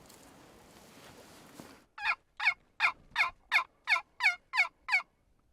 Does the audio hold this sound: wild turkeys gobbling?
yes